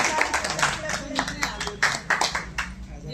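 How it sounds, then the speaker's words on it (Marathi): A small group clapping for a prize winner at a store lucky draw, a few short uneven bursts of hand claps mixed with talking. "टाळ्या वाजवा त्याच्यासाठी."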